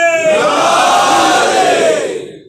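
A crowd at a Muharram majlis in an azakhana shouts the Naara-e-Haidari slogan in one loud, sustained collective cry that fades out near the end.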